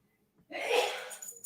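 One sudden breathy sneeze bursts out close by after a moment of silence, followed by faint rustling.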